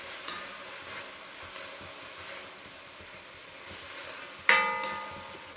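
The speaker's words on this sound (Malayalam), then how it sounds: "ഒന്ന് വഴണ്ടി കിട്ടാൻ ലേശം ഉപ്പും കൂടെ ചേർത്ത് നന്നായിട്ട് ഇളക്കി കൊടുക്കുക." Ginger garlic paste frying with a pinch of salt in a pan for fried rice, stirred with repeated spoon scrapes over a soft continuous sizzle, ending in a sharper metallic clank near the close.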